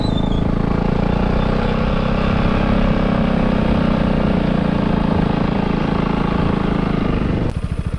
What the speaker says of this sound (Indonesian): Awas motor, motor, awas motor.